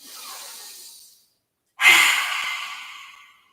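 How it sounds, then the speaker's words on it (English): Deep audible breathing during a yoga exercise: one long breath that fades out, a brief pause, then a stronger, forceful breath that trails off slowly, close and alone. "Breathe in."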